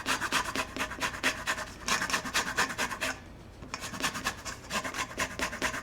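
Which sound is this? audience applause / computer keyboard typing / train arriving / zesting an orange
zesting an orange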